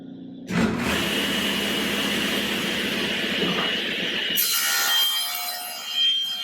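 A power saw cuts through a hardwood board with a loud, continuous grinding whine that lasts several seconds, then shifts to a higher, brighter tone as the cut ends and the blade runs on.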